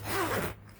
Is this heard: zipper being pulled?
yes